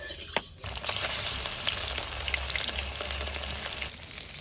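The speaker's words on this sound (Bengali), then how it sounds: "তেল দিয়ে দিচ্ছি মাছ ভাজার জন্য।" Rohu fish frying in hot oil in a heated iron wok gives a steady, loud, crackling sizzle that swells suddenly after a brief quiet moment and then holds without a break.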